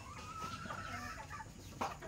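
A bantam hen clucks softly in a quiet farmyard, with faint, low-level clucking throughout and a slightly louder cluck near the end.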